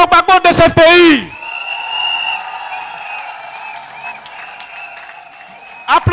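An audience at an investiture ceremony for Laurent Gbagbo's messengers rises and applauds, a steady roar of clapping and crowd noise that swells after a brief burst of speech and fades as another voice returns.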